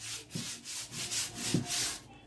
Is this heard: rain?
no